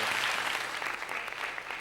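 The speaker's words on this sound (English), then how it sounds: "Please welcome him to the stage with your generous applause" Warm, dense applause from a theatre audience welcoming a volunteer onstage at a magic show, steady and continuous for a brief moment.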